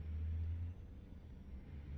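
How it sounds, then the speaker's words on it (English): Heavy truck engines from AI traffic in American Truck Simulator rumble loudly and low, a steady drone that swells in the first second then settles to a continuous idle-like growl with no talk over it. "they made some of these trucks so flippin' loud"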